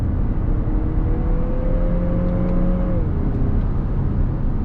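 A 2022 Lexus NX 350 luxury SUV pulls back on throttle after a paddle downshift, engine drone rising steadily in pitch then easing as a smooth gearshift lands, loud and continuous from inside the cabin with no talk.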